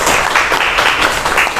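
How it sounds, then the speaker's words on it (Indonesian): Applause for a classmate in a school classroom lesson: a short, dense burst of many hands clapping together, loud and close, with no talking over it. "Aplaus dulu buat temannya."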